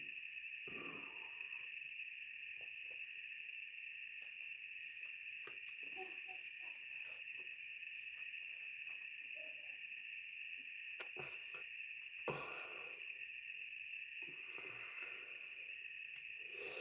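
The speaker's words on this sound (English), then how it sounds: "The crickets were incessant and plenteous." Crickets chirping in a steady, continuous high trill, incessant and dense like a night swarm, with faint soft thumps and rustles scattered underneath.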